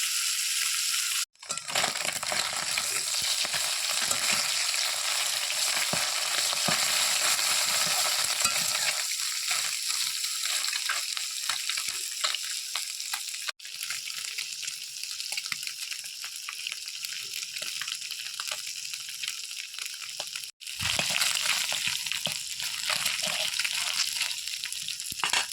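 Murola fish fry in a wok of hot oil, giving a loud continuous sizzle broken by a few short pauses, with scraping and crunching from stirring mixed in.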